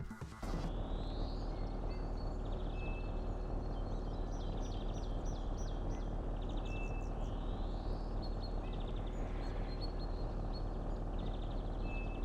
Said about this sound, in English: the ambient effect of those birds chirping sounds like I've got an aviary